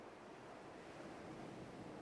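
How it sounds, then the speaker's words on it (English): Ocean waves washing onto a beach, a faint, steady rushing surf with some wind noise and no voices. "The waves roll in as you breathe in."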